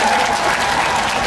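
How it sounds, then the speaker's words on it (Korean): Dense, sustained applause from a live concert audience, steady and loud from start to finish with no break. "훈훈한 박수를 보내주세요"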